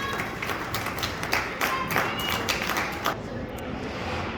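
Scattered clapping and light applause from spectators at an ice rink during a youth 14U hockey game's first-period break, moderately distant, with faint crowd murmur underneath; the clapping thins out toward the end.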